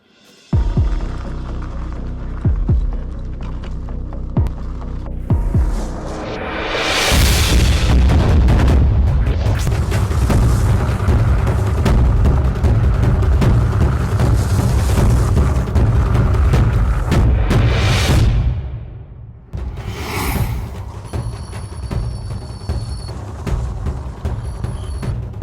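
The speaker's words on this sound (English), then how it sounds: "we were just on some steel slag and I was just turning it, driving it real hard" A Baja Wrangler 2 mobility scooter, classed as a Class 2 medical device, is driven hard and turned on steel slag: a loud, steady motor drone with crunching, rumbling grit, easing off near the end.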